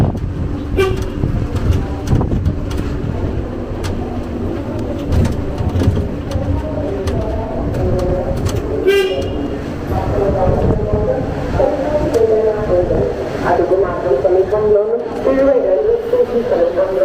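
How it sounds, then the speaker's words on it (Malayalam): Steady rumbling rail noise with a toot-like tone, busy with background chatter and clatter throughout. "ട്രെയിൻ"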